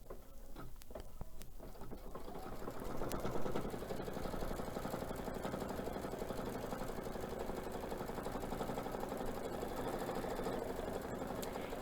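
A sewing machine runs satin cover stitches with a metallic needle, a steady close whirring patter that starts after a few clicks and keeps going evenly to the end, with no voices.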